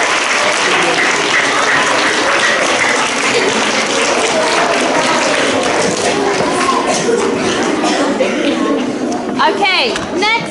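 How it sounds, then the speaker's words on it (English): Sustained applause from a large crowd at a school celebration assembly, steady dense clapping throughout with a few cheers and voices mixed in near the end. "Let's give all of our golden children a big round of"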